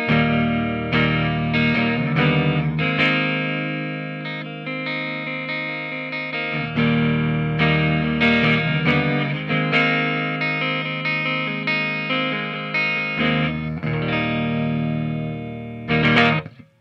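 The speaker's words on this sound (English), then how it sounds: "That was just the neck pickup." Electric guitar played through the neck pickup with a warm, slightly overdriven tone, strummed chords ringing out and sustaining, with a few quick changes between them.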